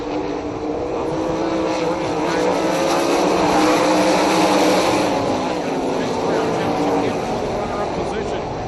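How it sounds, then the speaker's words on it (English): 360 sprint cars roar around a dirt oval in a steady, loud engine drone that swells and fades slightly as the pack passes, with a race announcer talking over the noise throughout. "now close racing for third between Brown and Steele"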